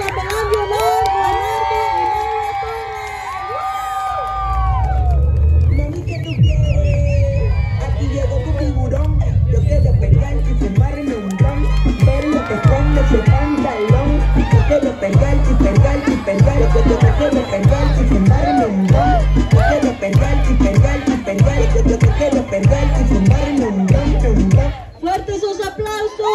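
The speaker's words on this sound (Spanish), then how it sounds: "Y que se escuchen los aplausos y la bulla para la quinceañera y el chambelán de honor" At a quinceañera party in Herald, California, a crowd claps, cheers and shouts for the birthday girl and her chamberlain of honor amid lively voices. A pounding, rhythmic dance beat then takes over and runs to the end.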